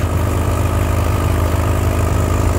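An antique tractor engine labors at a tractor pull, giving a steady, loud, low chugging drone with no break, alone and without talk.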